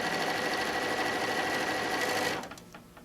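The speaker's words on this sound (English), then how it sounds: "when I am sewing through my quilting" A sewing machine fitted with a 1D foot stitches through quilted fabric for a pouch, running in a steady, loud, close whir before slowing and stopping.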